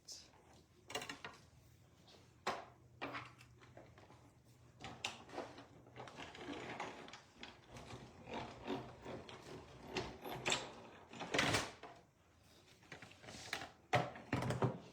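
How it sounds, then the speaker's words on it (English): A hand-cranked die-cut and emboss machine pressing standard-size cardstock for a card, giving a string of uneven mechanical clicks, creaks and ratcheting clunks at close range, with quiet handling noises in between. "I'm going to crank that through the standard cut and emboss"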